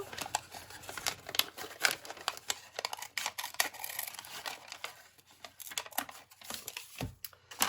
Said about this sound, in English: I just cut it all the way down, as you can see here.